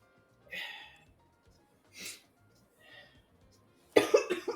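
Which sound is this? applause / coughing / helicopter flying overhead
coughing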